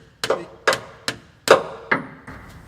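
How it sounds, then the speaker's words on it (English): A screwdriver is driven against a stuck transmission pan gasket to pry it loose, giving five or six sharp metallic knocks spaced about half a second apart, loud and close. "we're going to have to use a screwdriver to get this loose"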